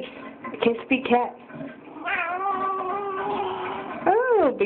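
A cat meows repeatedly nearby, giving several short calls and then a long drawn-out, wavering meow, with a person's voice heard around it.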